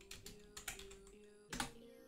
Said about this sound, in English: I'm actually simply going to start here by typing Roblox font.